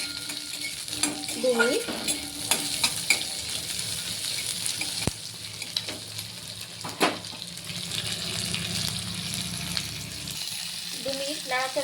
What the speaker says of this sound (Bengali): গরম সর্ষের তেলের মধ্যে আমি পেঁয়াজ টুকরোগুলো দিয়ে দিলাম। এটা একটু ভেজে নেব